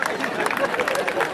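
Audience at an alumni meet in Azamgarh clapping to welcome a guest: dense, loud, continuous applause from many hands filling the room, with crowd voices mixed in.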